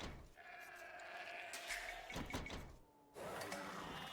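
Sheep bleat a few times amid game sounds and background music during a Roman match in Age of Empires 2, with a short door-like slide partway through.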